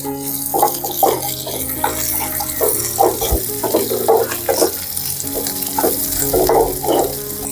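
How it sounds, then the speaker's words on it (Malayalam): Chopped ginger and garlic fry in hot oil for a Kottayam-style beef roast, with a continuous close sizzle and stirring crackles set against tonal background music. "എണ്ണ ചൂടായിട്ടുണ്ട് നമുക്ക് അതിലേക്ക് നമ്മൾ അരിഞ്ഞിട്ടിരിക്കുന്ന ഇഞ്ചി വെളുത്തുള്ളിയും കൊണ്ട് നമുക്ക് ചേർത്ത് കൊടുക്കാം"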